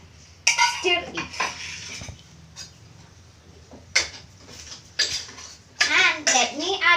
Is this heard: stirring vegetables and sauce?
yes